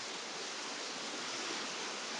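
The Magdalena River in San Agustín rushes beneath rocks as a dense, steady roar of flowing water with no voices.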